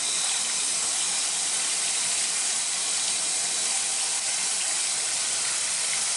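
Water pours steadily from a Price Pfister kitchen faucet, a constant broadband hiss that holds even and close for about six seconds with no voices.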